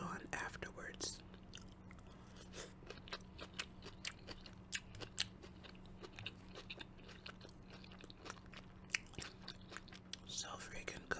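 Close-up chewing and crunching of home-cooked chicken and kale dressed with olive oil, salt and red pepper, soft repeated bites and mouth sounds in a quiet setting with faint whispering.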